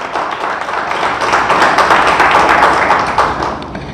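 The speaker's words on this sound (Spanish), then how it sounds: "denle fuerte el aplauso" A church congregation claps together in sustained, steady applause, a loud continuous patter of many hands that swells slightly in the middle and eases toward the end.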